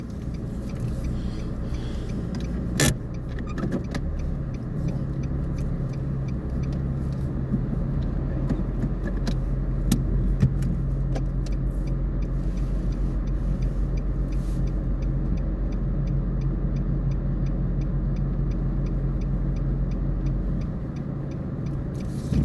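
Low steady rumble of road traffic heard from inside a car during a driving lesson, with a bus passing alongside, a continuous engine drone with a few sharp clicks.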